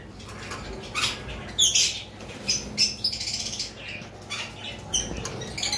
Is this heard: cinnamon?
no